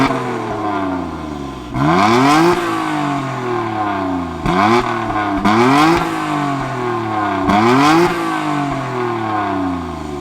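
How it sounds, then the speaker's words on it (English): An original 1990 Nissan R32 Skyline GT-R Nismo with a twin-turbo RB26 straight-six idles and then revs repeatedly, each sharp climb and fall in pitch loud and close, with a steady idle between the blips. "Let's fire up this R32 Nismo and hear what it sounds like."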